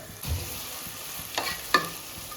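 Onions frying in a pan for crab curry, a quiet continuous sizzle with a couple of brief scraping stirs and one sharp clink of a spoon.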